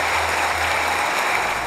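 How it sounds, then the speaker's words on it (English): A congregation applauds at a Mass of Thanksgiving in the Archdiocese of Dubuque, a steady, dense wash of clapping that fills the space evenly from start to finish with no pauses. "So you all deserve a round of applause."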